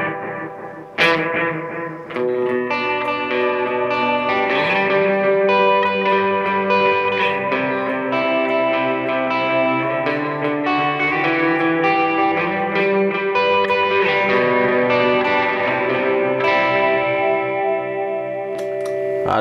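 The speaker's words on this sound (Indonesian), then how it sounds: "Ada Nemesis Delay." An electric guitar plays chords and sustained notes through a Nemesis Delay pedal on a pedalboard, the repeats trailing and blending into a thick, echoing wash that rings out alone and loud throughout.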